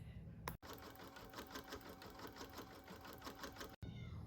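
Embroidery machine stitching a teddy bear's rosy cheeks in pink thread, a steady fast rhythmic needle clatter running close and loud, briefly cut off twice by short gaps.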